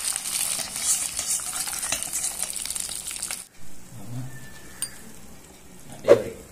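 Bread halwa with cashews cooks in ghee, giving a dense sizzling hiss with light scraping for about half the span, then a quieter stretch with soft clinks and a sharp knock toward the end.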